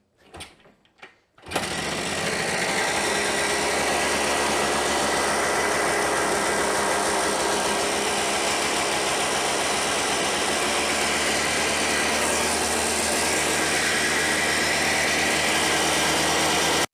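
A Kawasaki KD175 motorcycle engine, freshly running after a carburetor repair, kicks into life after a couple of short attempts and then holds a loud, steady buzzing drone close by.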